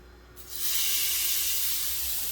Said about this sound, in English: So I'm going to go ahead and pop this in the pan.